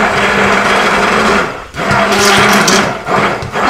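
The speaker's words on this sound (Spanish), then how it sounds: "Voy a batir primero Don Francisco." Electric hand mixer beating batter for a chocolate, banana and ricotta cake, a steady close whirring motor that runs continuously, briefly dipping and pausing twice before resuming, with no talking.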